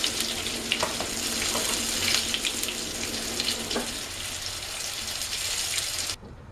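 Ground turkey patties fry in a pan with a dense, steady sizzle, close and fairly loud, that runs continuously for several seconds and then cuts off abruptly.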